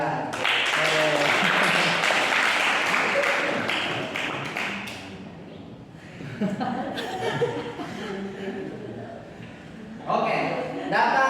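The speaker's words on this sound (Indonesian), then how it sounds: "kita tepuk tangan dulu." A class of students claps together during a data mining lesson, a burst of fairly close clapping with chuckles that fades, then scattered claps and murmurs before a short renewed round near the end.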